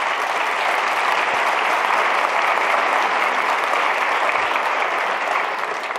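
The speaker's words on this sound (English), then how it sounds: "I really think that they deserve a round of applause" An audience applauds Marcel and Holger during a talk, a loud, steady wall of clapping from many hands lasting the full six seconds without voices.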